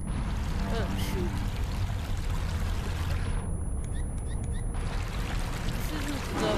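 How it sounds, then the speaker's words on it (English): Water rushes and pours loudly in a VR horror video game. The steady torrent briefly thins and dulls partway through, then surges back at full force. "Yep, that's a lot of water."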